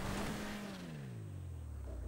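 A car engine in GTA Online revs high, then falls steadily in pitch as it runs on, loud and close throughout with no other sound over it.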